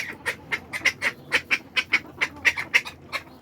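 Ducks in a chicken yard quack in a rapid, steady run of about fifteen loud, close, nasal calls, evenly spaced with little pause between them, and no talking.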